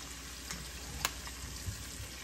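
Soy-sauce-marinated liver fries in a hot pan, a faint steady sizzle with one brief crackle and a few soft clicks.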